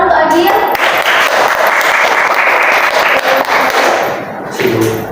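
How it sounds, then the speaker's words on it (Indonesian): Students clapping for a classmate in a classroom lesson, loud and dense hand claps sustained for several seconds before tapering, with a few young voices mixed in. "Tepuk tangan untuk Agil."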